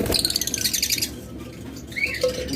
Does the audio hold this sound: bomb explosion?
no